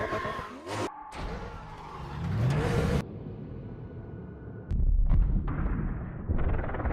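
A Need for Speed game car crash: tires skid and screech, then heavy metallic impacts and booming crunches with rumbling, all loud and without voices.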